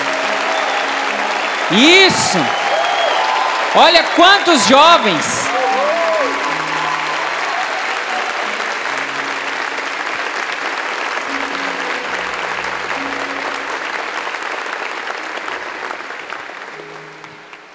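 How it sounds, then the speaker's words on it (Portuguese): A crowd of young people at a Catholic youth camp Mass applauds loudly and steadily for over fifteen seconds, fading at the end, while a voice speaks briefly over the clapping near the start. "Aplauda esse jovem agora."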